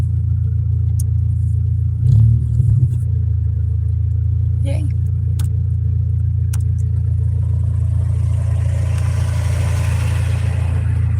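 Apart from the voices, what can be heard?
K24A2 Honda hatch engine restarting and revving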